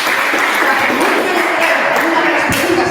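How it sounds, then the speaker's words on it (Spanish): Audience applause for a speaker at a talk on women in sport, a dense, steady wash of clapping that holds at an even level for about three seconds. "No, pero es que un aplauso para José."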